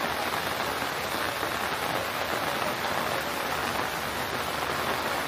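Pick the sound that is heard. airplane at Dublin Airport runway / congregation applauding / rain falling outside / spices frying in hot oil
rain falling outside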